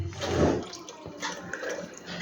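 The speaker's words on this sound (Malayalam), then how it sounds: "ഇനി ആ കവറിലുള്ള പാലും കൂടി ഒഴിച്ചു കൊടുക്കുക." Milk pours from a packet into a pot for milk payasam, a soft close liquid splash and gurgle lasting a couple of seconds.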